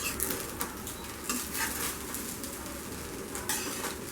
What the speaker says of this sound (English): we will just remove the lid and give a nice mix to the pulao here